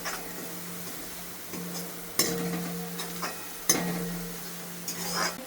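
Salt and Manchurian masala are stirred into a mixture with a spoon in a pot, giving soft scraping strokes and a few sharper clinks against the metal. The sounds are close and quiet, with no talking.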